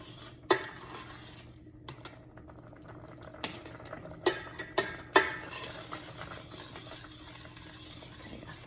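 A spoon scrapes and clinks against a pot of boiling orange buttermilk Jello salad mixture in irregular bursts, with a few sharper metallic knocks over a soft background bubbling.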